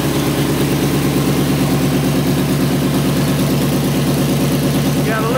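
Engine of a custom-built SdKfz 250 halftrack with a serpentine drive system, only a couple of miles on it, idling in a steady loud low rumble that holds constant throughout, close by.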